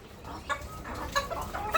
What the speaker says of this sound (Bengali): এখানে হচ্ছে দেশি মুরগি আর হইতেছে এখানে হচ্ছে এই যে ফাউমি মুরগি